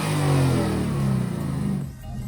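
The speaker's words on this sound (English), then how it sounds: "So we just did a couple of revs." A Ford Mustang fitted with an Air Raid cold air intake revs a couple of times, the mid-pitched engine note rising and holding before dropping back toward idle, close and fairly loud.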